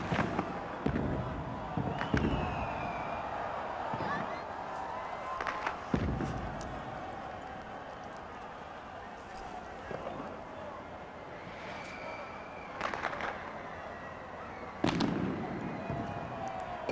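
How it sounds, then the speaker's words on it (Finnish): Fireworks burst over Helsinki at the New Year 2000 celebration, scattered booms and crackles arriving at irregular intervals from a distance, with crowd noise and someone talking throughout. "Ilotulitukset vaan ovat semmoisia, että ne eivät kuvaruudussa pääse oikeuksiinsa niinkään, vaan kyllä ne pitäisi nähdä paikan päällä."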